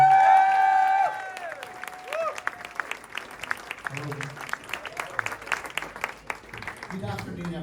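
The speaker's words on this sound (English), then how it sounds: "Round of applause, please, everyone" Wedding guests clap in a steady round of applause at the reception speeches, a dense patter of hands that follows a voice and some music and holds at a moderate level before tapering.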